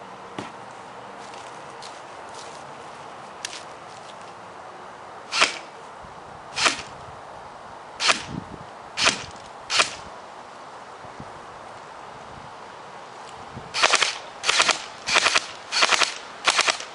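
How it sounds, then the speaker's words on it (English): A Kart M14 MCR airsoft rifle fires single sharp shots at a full can, with about five spaced cracks, then a quicker run of four or five, close and loud against a steady hiss. "just shooting the can full, just to see what the gun can do power-wise"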